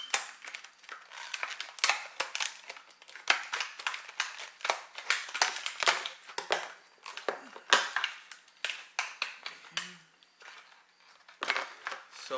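A Marvel Tsum Tsum toy box is torn and opened up close, with irregular bursts of crackling cardboard and crinkling rustles coming in quick uneven clusters.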